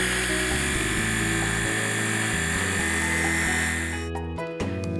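An electric mixer whips cottage cheese into a cream, giving a steady close motor whine whose pitch shifts slightly as it works, running alone without talk until it cuts off near the end.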